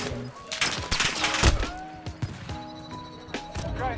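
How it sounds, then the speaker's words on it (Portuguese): Rapid gunfire crackles in a battle royale video game, with bursts of shots and sharp impacts against game sound effects and tonal chimes, moderately loud with no clear talk. "Tô levando tiro."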